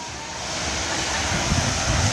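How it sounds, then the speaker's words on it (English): Fans blowing steadily inside a chocolate factory working with cacao from Belize and Peru, a continuous broadband rush of moving air that stays loud and even throughout, with a slight low rumble swelling near the end. "they have all the fans blowing"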